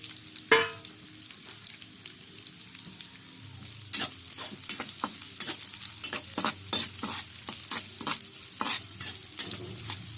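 Chopped onion sautés in a hot pan while pata pork is being cooked, with a steady sizzle and repeated sharp scraping strokes of a utensil stirring the pieces, close and moderately loud.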